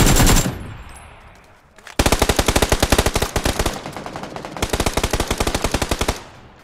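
Rapid bursts of automatic gunfire in a video game, loud and close, in two long sustained volleys after a brief opening shot, with short gaps between.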